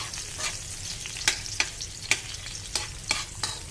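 Onion and garlic sautéing in a pan for chicken liver adobo, a steady close sizzle broken by several sharp scraping stirs of the spatula, with no talking.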